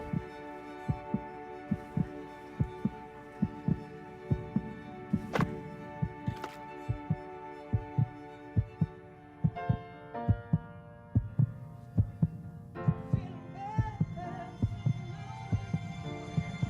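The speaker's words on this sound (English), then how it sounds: "This song was created with heartbeats of children in need." A song built from recorded heartbeats of children: a steady, evenly spaced double thump pulses throughout, with humming tones and melodic layers building over it and no voices.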